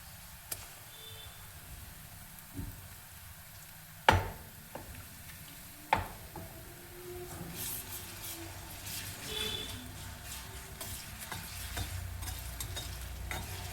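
A ginger, garlic and coriander paste fries in oil with onions for a Nagpuri Saoji vadi vange dish, a soft low sizzle with a few sharp spoon scrapes and taps. The frying swells slightly toward the end.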